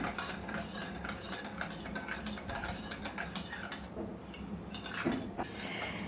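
A spoon stirs salt into water, clinking against a bowl in steady, close scraping motions, with faint kitchen clatter and no voices.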